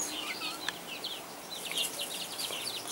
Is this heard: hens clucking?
yes